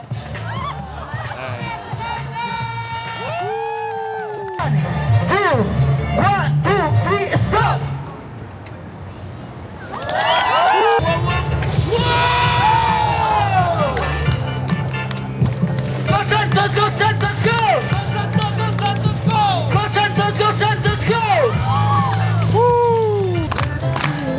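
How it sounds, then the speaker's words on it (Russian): A large street crowd in New York cheers and shouts around street dancers, with loud whoops, children yelling and bursts of clapping, and voices calling out throughout. "Немного сдержали нас уличные танцоры. Они собрали внушительную толпу."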